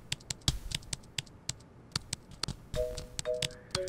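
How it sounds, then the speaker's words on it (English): Rapid computer-keyboard typing in a video game: sharp, distinct keystrokes tap in an uneven but quick rhythm, close and fairly quiet, with a short tonal game beep near the end. "Why are you furiously typing?"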